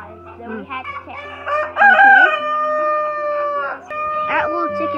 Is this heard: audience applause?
no